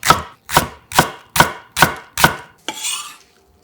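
A knife slicing a green onion finely on a cutting board: six crisp, evenly spaced chops close up, then a softer sliding scrape, with no talking.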